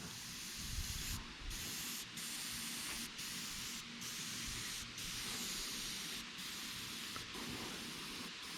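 Spray paint misted in short, steady hissing bursts onto the belly of a smallmouth bass replica, several sprays separated by brief pauses, close and fairly quiet.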